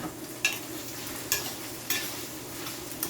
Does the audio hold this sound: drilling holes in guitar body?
no